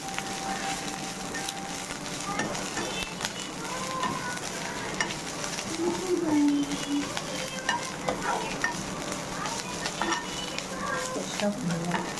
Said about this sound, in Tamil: இப்போ இந்த முருங்கைக்கீரை வந்து நல்லா சுருள வதங்கணும்.